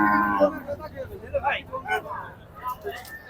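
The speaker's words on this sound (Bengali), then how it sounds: "আমরা একটু বড় গরু দেখি" Cattle low at a busy livestock market for bulls, with several moos rising over a steady background of crowd chatter; people talk nearby.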